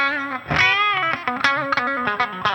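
An electric guitar plays through the clean channel of a B-52 ATX100 tube amp, a quick run of bright picked notes and chords with some effect and reverb, loud and close with no talk.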